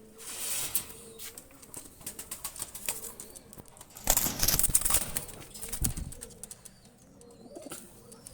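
Two released Pakistani high flyer pigeons flap and coo nearby, with repeated bursts of wingbeats and a louder flurry midway, against a quiet background with little talk.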